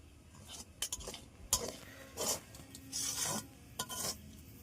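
A spatula scrapes and stirs fried rice in a metal pan, with rhythmic rasping strokes and a couple of sharp clanks, close and fairly quiet, with no talk.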